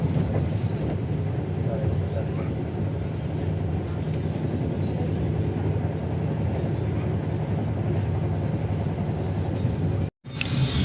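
Steady rumble inside a Majapahit economy-class passenger train running, a constant low drone of wheels and carriage noise with a brief dropout near the end.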